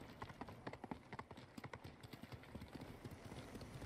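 Horse hooves clip-clop in a quick, steady rhythm during a ride in the Ghost of Tsushima video game, the hoofbeats close and distinct over faint background ambience.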